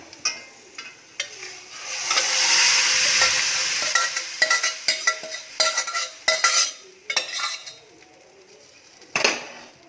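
Boiled dal is stirred into a pan of hot spices and crushed kasuri methi, giving a loud sizzle that swells and fades, with scraping strokes and sharp clinks of a spoon against the pan.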